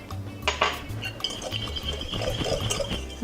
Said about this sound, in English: Now this is where I'm going to add in that tablespoon of water.